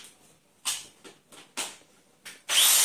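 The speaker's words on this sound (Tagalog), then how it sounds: "So, i-hammer drill ko na siya." A borrowed heavy-duty hammer drill boring into a wall for a doorway pull-up bar, several short close bursts that end in a sustained loud run of drilling.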